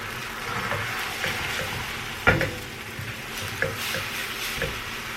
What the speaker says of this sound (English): we're gonna go ahead and just get that into the pan and just kind of keep it moving